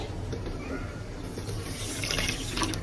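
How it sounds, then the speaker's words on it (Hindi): Water poured from a cup into a pan of sugar to make syrup for gulab jamun, a steady close splashing, trickling stream running for the whole stretch. "और अब इसमें हम पानी डालेंगे।"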